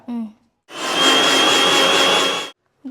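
Electric mixer beating eggs with pepper powder and salt for a macaroni cake, one loud steady motor whir of about two seconds, bracketed by brief speech just before and after.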